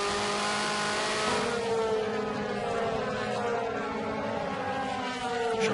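On-board sound of a DTM race car at the Red Bull Ring, Spielberg, driven by Timo Scheider: a steady, loud engine drone whose pitch climbs and shifts through gears, heard alone without talk.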